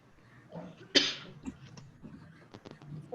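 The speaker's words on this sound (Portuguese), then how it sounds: "Eu tô tossindo, mas não é corona não, hein?" A sudden harsh cough bursts out close up, followed by a few smaller throaty sounds and breaths.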